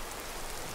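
A brief burst of steady rain in Skyrim, a uniform hissing patter of drops with no other sounds or voices.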